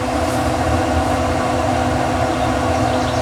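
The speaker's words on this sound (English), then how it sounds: "I'll take a hairdryer to it, I guess." A hair dryer blows a steady, loud rushing hum at close range, aimed at a stubborn sticker on a Lexington Onyx Edition grill. The sound runs unbroken with no talking.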